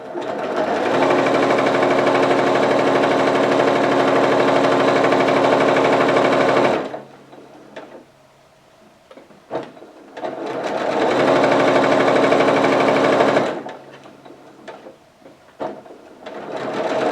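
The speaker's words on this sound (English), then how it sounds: "Come back to the machine and sew again." Quilt strips run through a sewing machine in two long, loud, steady bursts of about six seconds each, with quiet handling noises in the pauses between.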